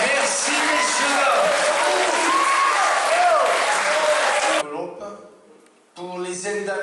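Audience applause at an association's general assembly in Sauviat-sur-Vige, dense and loud for about four and a half seconds, then cut off abruptly, with a short quieter pause before another burst of clapping.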